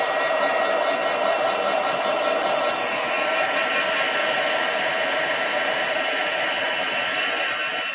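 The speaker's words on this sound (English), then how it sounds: "So I'm just adding some clear embossing powder, turning my heat tool on, giving that a flick." A heat tool blows a steady, loud, airy whoosh while heat-setting clear embossing powder on a card, running continuously with no pauses.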